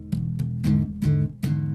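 Bass guitar sounds an E dominant 7th chord in an R&B/funk groove, four or five strong plucked attacks in a steady rhythm with sustained low notes between, close and alone.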